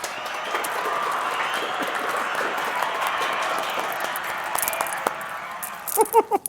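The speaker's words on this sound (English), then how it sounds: "Please put your hands together in a round of applause for my fabulous assistant" A studio audience gives a round of applause for the host's assistant on a library-themed teen game show, steady broadband clapping sustained for several seconds, tailing off into a few scattered louder claps near the end, with voices underneath.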